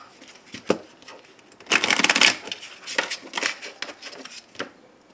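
Tarot cards are shuffled and cut for a daily reading, with soft taps followed by a dense burst of riffling and several more papery flicks and slaps, close and clear.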